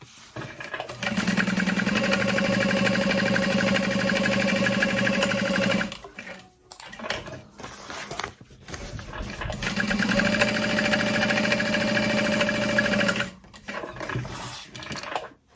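A sewing machine stitches a backpack in two long steady runs of rapid mechanical whirring, near and loud, separated by a brief pause with softer handling noises between them.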